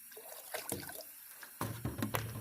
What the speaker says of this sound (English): we're going to go ahead and dump a quart of water, cold tap water, straight into this